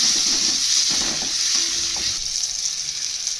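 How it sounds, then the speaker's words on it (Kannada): Chopped onion and tomato sizzle loudly in a hot pan while a spoon scrapes and stirs through them, a steady close frying hiss with a few clinks, no talk. "ನಂತರ ಟೊಮೆಟೊ ಇದ್ದೀನಿ ಇದನ್ನು ಒಂದೆರಡು ನಿಮಿಷ ಚೆನ್ನಾಗಿ ಫ್ರೈ ಆಗಬೇಕು"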